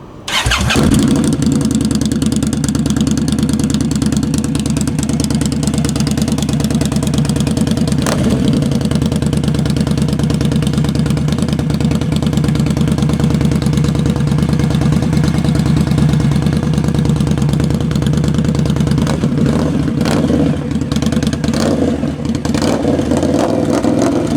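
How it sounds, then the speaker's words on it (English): A 2019 Indian Scout motorcycle fitted with aftermarket pipes fires up and settles into a loud, steady, deep-throated idle. The engine note stays close and constant for the whole stretch, with a few small throttle blips near the end. "I'll go ahead and give you a little startup of it right now"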